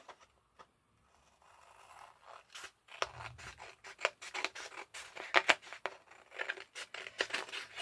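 Scissors snip through a paper envelope during a papercraft session, giving a run of close, crisp cuts and rustles that start after a quiet opening and continue in irregular bursts.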